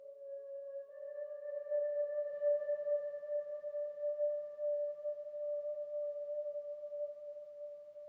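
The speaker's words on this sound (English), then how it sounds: "I think this is the flute sound on the Casio." The flute voice of a Casio keyboard holds one steady, pure note with a faint overtone, alone and even for about eight seconds.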